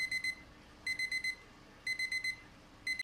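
Kitchen timer alarm beeping in bursts of four or five rapid high tones, repeated four times with short pauses between, clear and alone against a faint background hiss.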